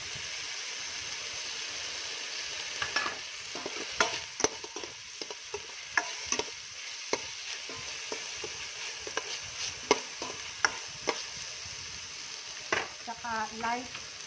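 Oil frying with a steady sizzle while a utensil stirs and taps the pan in irregular clicks, with oyster sauce being stirred in; close and fairly quiet.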